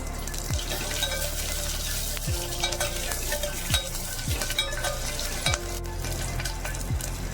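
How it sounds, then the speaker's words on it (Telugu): Green chilies sizzle steadily in hot oil for a pumpkin stew, a continuous close frying hiss with occasional sharper crackles and no voices. "వేగుతుండగానే మనం కట్ చేసి పెట్టుకున్నటువంటి పచ్చిమిర్చిని కూడా వేసుకోవాలి"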